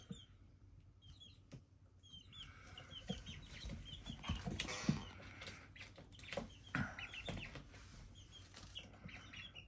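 Young chicks in the jumpy stage give soft clucks and peeps with brief wing flaps and hops, quiet and close in an otherwise calm indoor setting.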